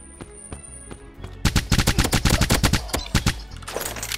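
Rapid bursts of submachine-gun fire from the online shooter Fire Strike Online, a quiet stretch with faint clicks giving way to loud, dense volleys of close shots that continue to the end.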